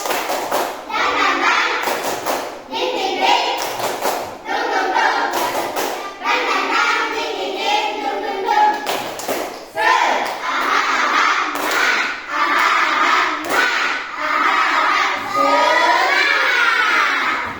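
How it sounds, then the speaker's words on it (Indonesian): Fourth-grade schoolchildren in a classroom do a spirited clapping chant, loud group claps and thumps in regular bursts every second or so, interleaved with children chanting and shouting together. "Oke, coba tepuk semangat."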